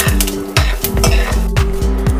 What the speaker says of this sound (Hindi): और इसी के साथ इसमें डालेंगे थोड़ी सी मूंगफली और काजू। इसे हल्का सा भून लेंगे।